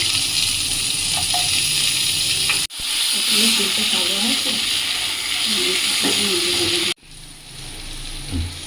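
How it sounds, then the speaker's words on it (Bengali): Pointed gourd (potol) frying in oil for Bengali sukto, a continuous hissing sizzle close to the pan, broken by two abrupt cuts, with faint scattered clinks and soft background sounds. "এবারে আমি পটলগুলো ভেজে নিচ্ছি"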